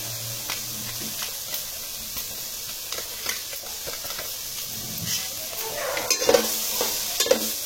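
Vegetables stir-fry with Schezwan fried rice masala in a pan, a soft steady sizzle broken by scraping stirs and small bursts of louder hissing toward the end, close up and without talk.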